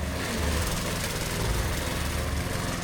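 A lawn mower drones steadily on a fenced plot in Tonga, a continuous engine hum at moderate distance with no speech over it.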